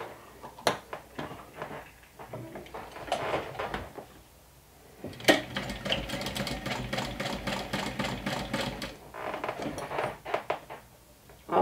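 Home sewing machine stitching down a connector strap on a saddle-shaped crossbody bag, running in short bursts and then a longer steady run of rapid mechanical stitching, close and fairly quiet, with brief pauses between.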